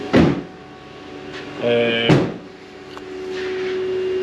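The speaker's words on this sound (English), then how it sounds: "I'll just shut the door so you can see." A Ford Transit van door thuds shut with a brief metallic rattle and hum, followed by a second firm clunk, then quiet.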